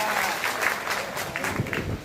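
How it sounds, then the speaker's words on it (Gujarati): Applause breaks out from the audience at a BJP meeting, a dense, close patter of many hands clapping steadily for the whole stretch, with some voices mixed in. "તાળીઓ પાડો"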